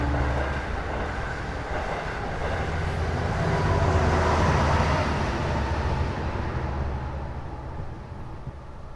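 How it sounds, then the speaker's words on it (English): A diesel train rumbles past in Forest Hills, Queens, New York, with a low engine drone, swelling in the middle and gradually fading away toward the end. "That sounds like a diesel train."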